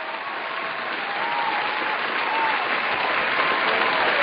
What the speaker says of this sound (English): I want to give it a load of golf claps.